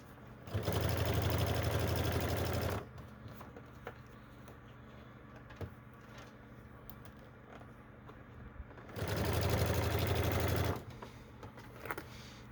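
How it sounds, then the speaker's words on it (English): A sewing machine stitches a Batman-inspired fabric bag shut in two steady whirring bursts of about two seconds each. Quieter handling noise fills the gap between them, with no talking. "And sew the bag shut."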